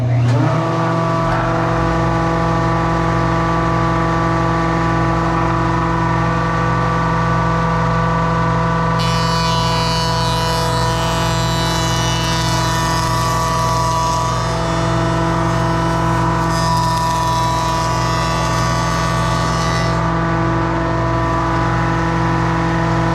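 A Shaper handheld router cuts a 1/4 inch spline dado down the center of a wooden board, its motor whining loud and steady throughout, with a harsher, brighter cutting roar swelling in the middle stretch.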